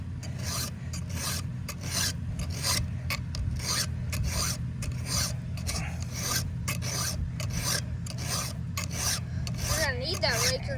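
Hand filing of a hammered chainsaw chain tooth, a steady close rasping of rapid, even file strokes that runs without a break over a low background hum.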